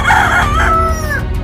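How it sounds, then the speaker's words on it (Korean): A rooster crows once, loud and close: a single drawn-out cock-a-doodle-doo that rises and trails off in a storytelling scene. "바로 그때 닭이 울었습니다"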